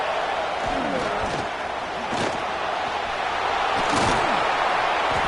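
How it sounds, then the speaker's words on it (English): Loud stadium crowd roaring at a Clemson vs Notre Dame college football game, a dense sustained wall of cheering noise with a few louder swells as fans try to rally the defense. "And here comes the noise. This crowd is trying to inspire this defense to make a big red zone stop."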